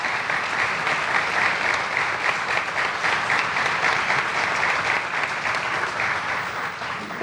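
A crowd at a youth event celebrating Pope Francis applauds steadily for several seconds, a dense, even wash of clapping that stays loud before easing slightly at the end.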